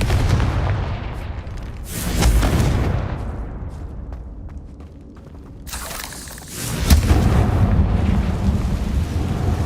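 Two heavy blasts from the Confringo fire spell in Hogwarts Legacy, each a booming burst with a rumbling tail, the first around two seconds in and a louder one near six seconds, over a low rolling background.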